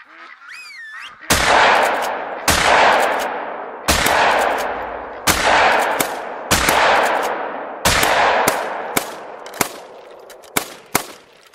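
Shotgun shots fired while duck hunting in theHunter: Call of the Wild, about ten loud sharp blasts with ringing tails, spaced steadily at first and then coming faster toward the end, with no speech.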